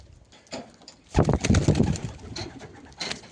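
Pigeons coo in low, throaty rolling calls close by, one burst following another, with some soft rustling around them as they eat from a hand.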